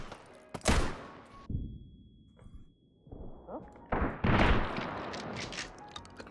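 Guns firing in the VR game Hot Dogs, Horseshoes & Hand Grenades, a loud close shot followed by a quieter lull, then a cluster of rapid shots and clattering impacts toward the end, with no talk.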